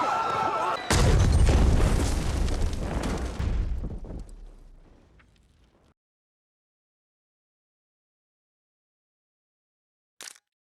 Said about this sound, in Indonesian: Namun tiba-tiba, saat itu terjadi ledakan